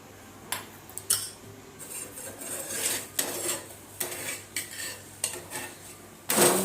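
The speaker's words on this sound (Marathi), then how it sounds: "आता भाकर शेकून घेऊया" Sesame-topped bhakri flatbread being roasted on a hot tawa, with repeated clanks and scraping rasps of a utensil against the pan, close and irregular, no talking.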